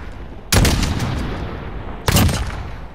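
Two sharp, loud gunshots about a second and a half apart ring out in a Search and Destroy match, each with a short echoing tail and no talk.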